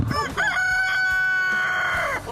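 A rooster crows once, loud and close, after a few brief clucks from chickens.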